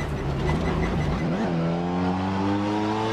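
Race car in Assetto Corsa, a touring car on a track, engine note rising and bending in pitch as the rear locks up and the car spins out, steady loud engine harmonics throughout, no talk.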